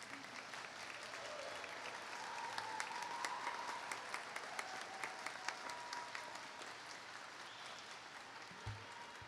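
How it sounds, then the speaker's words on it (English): Applause fills an Embry-Riddle Worldwide graduation ceremony, a large crowd clapping steadily for several seconds with scattered cheers, swelling slightly and then tapering off. "Cheering is perfectly allowed."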